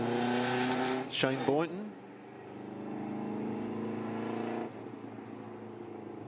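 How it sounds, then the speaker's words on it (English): A race car at the Leyburn Sprints with a misfire, its engine running rough and uneven, with a sharp rev burst early and then a sustained ragged drone, under commentary. "not running cleanly at all, so unfortunately they haven't been able to cure that misfire"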